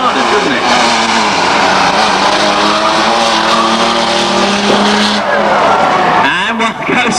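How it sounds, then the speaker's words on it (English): A Ford Transit van in a banger race at Ringwood Raceway, its engine droning loud and continuous amid other racing cars, with a commentator talking over the roar throughout. "an Emery, even though he's in a transit van, it sounds just like he's Granada, doesn't it?"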